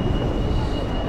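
Broadband rumble of a busy Copenhagen subway train in motion, a steady loud low roar with a faint high whine, continuous throughout with no talk.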